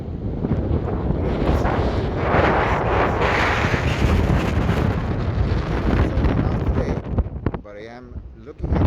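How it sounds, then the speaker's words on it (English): Strong gusting wind on the beach at Half Moon Bay buffets the microphone with a steady, heavy roar and rumble, continuous and loud throughout, easing briefly near the end. "but it is windy."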